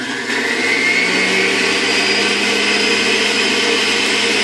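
A juicer runs on high while juicing carrots, giving a loud, steady, close whirring motor whine with a grinding edge that keeps going without a break.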